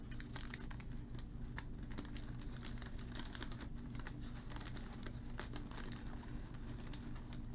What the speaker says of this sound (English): Just going to carefully pull away bits of the paper,